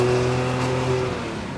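The air-cooled engine of a 1973 Porsche 911E revs during a road test, a loud, close, sustained mechanical drone with a steady pitched tone that eases slightly toward the end, no voices heard.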